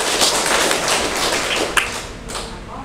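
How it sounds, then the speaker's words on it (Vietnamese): Applause from a hall audience at a Buddhist talk, a dense continuous patter of many hands clapping at steady loudness throughout. "quý vị cho cháu một tràng pháo tay đi mình xin nha."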